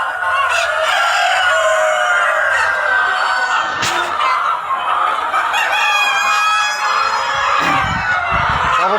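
Chickens near a nesting spot cluck and call continuously and close by, with a rooster-like crow rising over the busy flock and no talking.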